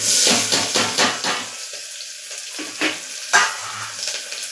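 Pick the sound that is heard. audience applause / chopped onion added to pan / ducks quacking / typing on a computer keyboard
chopped onion added to pan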